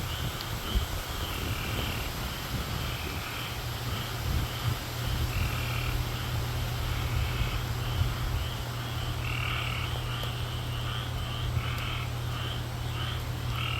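A dense chorus of frogs croaks during Hurricane Idalia, a steady, pulsing wall of trilling calls that fills the night with no one talking.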